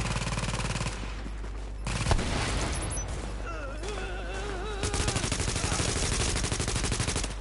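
Gunfire in the shooter game The Division, bursts of automatic fire punching through a wall, with rapid rattling volleys, a brief lull, then a renewed sustained burst near the end.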